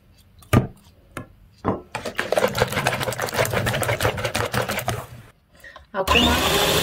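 An electric mixer whirs steadily for several seconds as eggs are beaten into a cooled caramel-like cake batter for a Spartak mango cake, preceded by a few sharp knocks and followed by a louder rushing burst.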